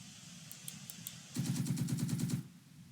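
Burst of automatic gunfire from the Second Front tactical war game, a rapid rattling volley of about ten close, loud shots, preceded by a few lighter scattered reports.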